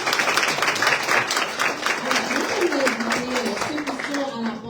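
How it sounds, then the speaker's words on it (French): Audience applause at a welcome evening for newly arrived Haitians in Canada, a steady crowd clapping throughout with a voice speaking over it. "On peut l'applaudir un petit peu plus fort"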